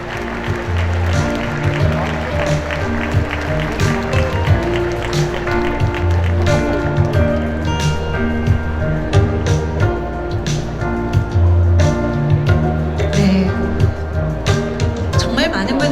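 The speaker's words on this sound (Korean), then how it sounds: "여러분 큰 박수로 맞이해 주시기 바랍니다" An audience at the 29th Ocean Day ceremony at Jeongok Port in Hwaseong applauds as dignitaries enter. The steady clapping runs throughout beneath loud, sustained background music.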